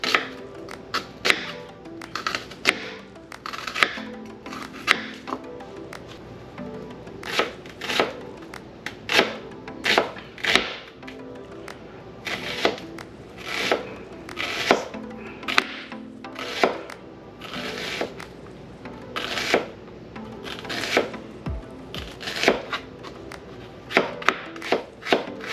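Onions chopped with a knife on a cutting board for Swedish meatballs: a run of crisp, close knife strikes in uneven bursts with short pauses between, each thunk clear against a quiet background.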